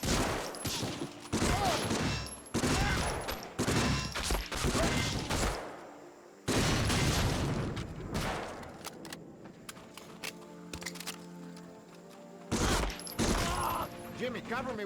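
Heavy, sustained gunfire rages through a battle in the 2002 PS2 World War II shooter Medal of Honor: Frontline, dense volleys pounding in long loud bursts with brief gaps and a quieter lull in the middle.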